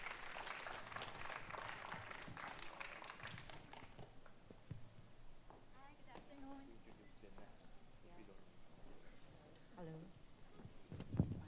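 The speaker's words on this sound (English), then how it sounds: "Please give them a big round of applause." Audience applause for panelists at a panel discussion, dense clapping for the first few seconds and then thinning to scattered claps, with people talking underneath.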